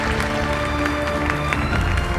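A crowd at a conference applauds Dimitri Payet with dense, continuous clapping that fills the room at a steady level for the whole moment.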